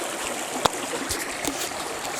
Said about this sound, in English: we've come back to this stream, which is just a 10-minute walk from the hut